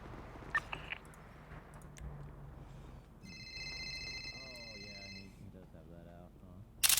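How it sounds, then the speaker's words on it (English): A phone rings in the GTA role-play game, a steady electronic ring lasting about two seconds amid background game sounds, with people talking over and around it. "My God, this phone keeps on ringing."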